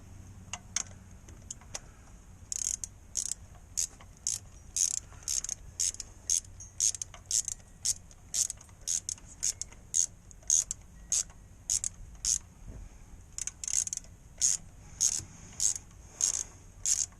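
Ratchet wrench turning while loosening a car AC compressor on a Pontiac Sunfire, a close, fairly quiet series of quick clicking bursts in an irregular rhythm, repeated many times with short pauses between strokes.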